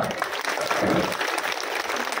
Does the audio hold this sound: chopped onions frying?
no